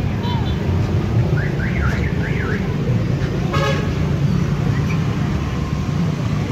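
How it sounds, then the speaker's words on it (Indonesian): Jammed-up road traffic in Ambulu ahead of the Ramadan fast-breaking, with a warbling horn rising and falling twice over a steady roadway hum, a brief sharp toot later, and faint voices in the background. "Tuh sampai macet jalannya."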